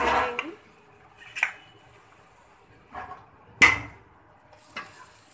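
Syrup being stirred into zarda sweet rice in a pot, five separate scraping, clattering strokes spaced about a second apart, with quiet gaps between them.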